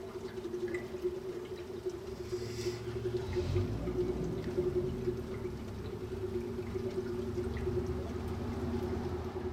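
Gasoline drains from the open valve of a fuel tank on a 1980 Ford F-350 service truck, a steady trickling pour with faint dripping, continuous and close but fairly quiet, with a low hum underneath.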